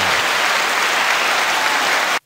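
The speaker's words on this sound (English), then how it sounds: "The applause ain't for the movie" Dense, loud applause from a crowd, an even wall of clapping close by that runs steadily and then cuts off abruptly.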